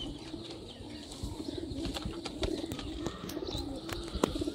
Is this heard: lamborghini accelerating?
no